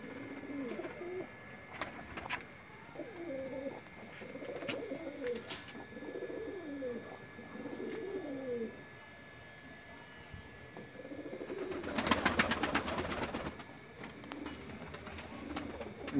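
Pigeons for sale coo in soft, repeated rolling phrases nearby, with a pause partway through and a burst of wing flutter and rustling near the end.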